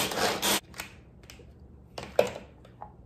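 A pull-cord manual food chopper is yanked in a kitchen, giving a brief loud whirring rasp at the start, followed by a few quieter clicks and rattles.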